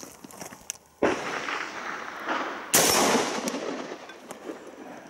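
A rifle fires a single loud, sharp shot on its grenade-launching gas setting: quiet handling noises, then a sudden close blast with a long decaying echo, followed by a second loud burst and rumbling tail.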